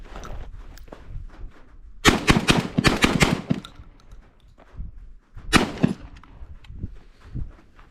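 Citadel Bosshog shotgun fired down range outdoors: a loud rapid string of about five blasts, then a pause and one more boom, with quieter clicks and handling noise between shots.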